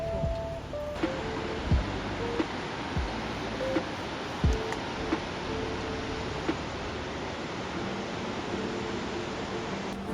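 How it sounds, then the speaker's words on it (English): A big waterfall along a lakeside walk in Croatia pours as a steady, broad rushing roar that fills the scene, with a few faint knocks and footstep-like thumps over the continuous water noise. "it's a big waterfall"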